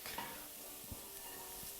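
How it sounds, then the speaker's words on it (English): Finely chopped Swiss chard sizzles steadily, sweating down in a hot pan, a soft continuous frying hiss with a few faint stirring scrapes. "we're just going to sizzle and sweat it down"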